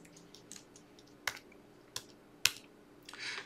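Typing on a computer keyboard, heard as a handful of faint, sparse keystroke clicks spaced roughly half a second apart in an otherwise quiet room.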